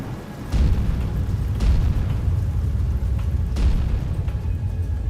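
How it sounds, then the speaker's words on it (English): A thunderstorm rumbles in a dense, steady low roar, broken by several sharp thunderclaps that crack out loudly over the rolling background. "The sky was thundering and lightning"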